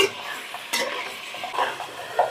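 Mutton frying in oil with a spice tempering, a soft steady sizzle broken by a few stirring scrapes and light clinks of a spoon against the pan, fairly quiet and close.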